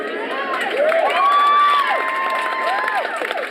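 A crowd cheers and whoops at a protest march against rape culture, with high voices shouting and calling in overlapping bursts that swell and stay loud and close throughout.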